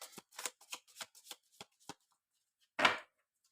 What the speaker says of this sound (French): on va prendre 3 cartes de l'oracle Histoire de sorcière